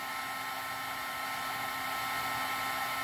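A steady, high-pitched mechanical whir of a heat gun blowing hot air, constant and close, with no talking.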